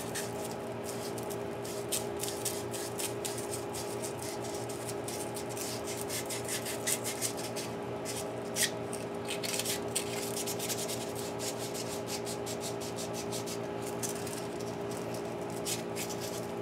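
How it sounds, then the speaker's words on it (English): Sandpaper rubbing against a smooth pen tube to rough it up before gluing, a faint, steady scratchy rasp of repeated strokes over a constant low hum, with no talking. "I'll take a little bit of sandpaper and just rough it up before I start to glue up"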